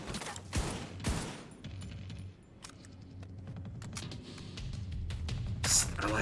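Blind-fire gunshots in the video game The Division 2: a few sharp, loud shots at the start, then scattered quieter cracks and mechanical clicks over a low rumbling background, with another burst near the end.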